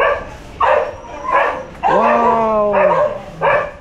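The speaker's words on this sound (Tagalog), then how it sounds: "At umingay yung aso ko." A dog at a home's backyard and garage barks several times, loud and close, with one longer yelping, whining bark in the middle and a man briefly exclaiming.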